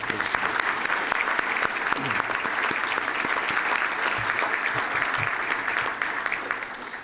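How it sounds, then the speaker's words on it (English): Breakfast crowd at a chamber of commerce awards event giving a sustained round of applause, steady and full throughout, easing slightly toward the end. "Let's have a round of applause for all of our"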